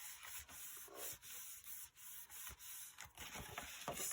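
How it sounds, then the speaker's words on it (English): Soft, close rubbing strokes as glued paper pieces in a baby book are burnished flat by hand, a quiet repeated scraping with short pauses between passes. "Stick it down and burnish."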